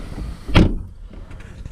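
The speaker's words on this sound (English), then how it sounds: "I will close the door." A 2018 Audi A7 door shuts from inside the cabin with one solid, muffled thud, followed by quiet interior hush.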